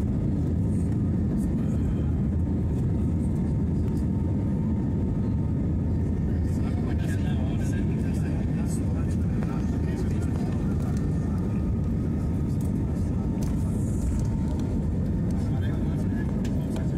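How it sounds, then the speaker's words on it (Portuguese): Loud, continuous low rumble of a jet airliner taking off from Porto Alegre, heavy and sustained throughout, with a faint voice in the background. "o avião saindo agora aqui, ó."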